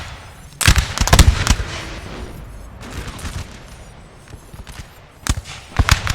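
Musket volleys crack out in a Napoleon: Total War siege battle at Toulon in 1793, with clustered bursts of sharp shots early on, a quieter rumbling lull, then more scattered reports toward the end.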